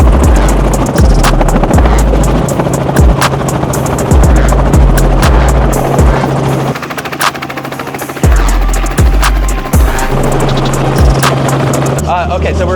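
A helicopter flies close by, its rotor beating in a loud, fast, regular chop over a steady engine whine, with a brief drop in level midway.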